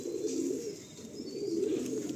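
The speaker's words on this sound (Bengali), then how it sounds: "এটা দেখুন কত সুন্দর একটা পায়রা" Pigeons cooing steadily at close range in a continuous low, throaty warble that rises and falls without pause, with no voices.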